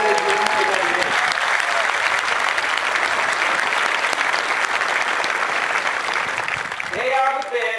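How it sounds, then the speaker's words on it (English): Strong, sustained applause from a large crowd at an Air Force Basic Military Training graduation, honoring the BMT instructors, with voices briefly audible at the start and end. "Please give them a round of applause for what they're doing today"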